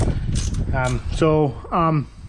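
Ratchet tightening a rear strut bolt on a 2012 Chrysler 200, three creaky clicking strokes with drawn-out squeaky pulls, close and fairly loud.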